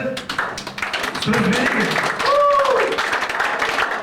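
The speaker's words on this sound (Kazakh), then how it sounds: "Фаризаның құрметіне дубл шапалақпен" A crowd of students at a gathering claps in honour of a classmate, steady rapid applause running for several seconds beneath a voice speaking over it.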